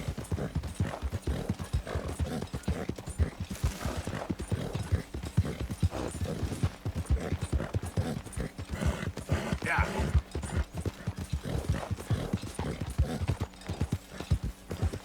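Horse hooves clip-clop steadily in Red Dead Redemption 2, a fast, even rhythm of close hoofbeats running throughout with a brief whinny partway through.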